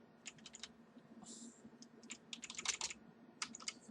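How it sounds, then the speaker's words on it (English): Computer keyboard arrow keys tapped in a string of quick, light clicks, some in fast bursts and others singly with short gaps, faint and close against a quiet room hum. "You can go frame by frame with the arrow keys."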